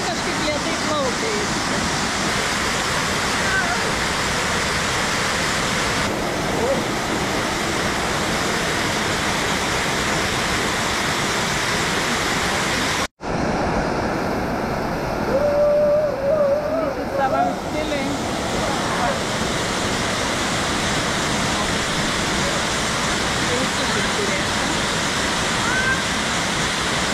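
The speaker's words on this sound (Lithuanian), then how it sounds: "tas kriokliukas" A small waterfall on Koh Samui rushes in a continuous broadband roar, heard up close and steady throughout, with one brief dropout partway through.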